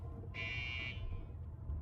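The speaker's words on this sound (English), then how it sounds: "a buzzer sounded outside the cockpit, signaling the captain's attempt to re-enter." A buzzer sounds outside an aircraft cockpit door, one steady electronic tone held for about half a second over a low background hum, fairly loud and clear.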